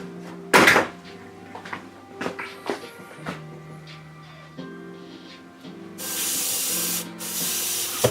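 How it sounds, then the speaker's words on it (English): An uncleaned airbrush loaded with paint for detailing a Jessica Rabbit figure gives soft clicks and handling knocks, then releases a steady hissing spray for about two seconds near the end, with a brief pause in between. "Let's see if it comes out of the airbrush."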